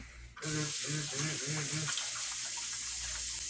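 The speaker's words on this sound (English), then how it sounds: "let me wash my hands" A kitchen sink tap runs while hands are washed, a loud steady gush of water that starts abruptly and continues, with a voice briefly audible beneath it early on.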